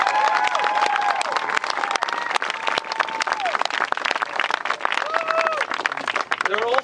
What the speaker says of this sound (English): Let's hear a round of applause for everyone who was able to show up.